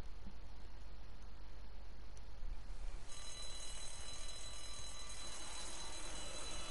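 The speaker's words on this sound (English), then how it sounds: "Why is there an alarm on?" An alarm rings continuously in The Walking Dead game, a harsh, steady electronic ringing with high, tonal bands over a dense background noise bed, shifting in tone partway through and persisting throughout.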